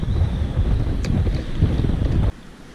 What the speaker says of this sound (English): I hate this wind already.